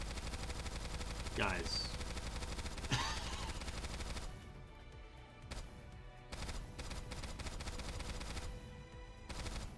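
Eve firing her gun in the video game Stellar Blade: dense bursts of gunfire over a busy game soundtrack, with a voice talking briefly near the start.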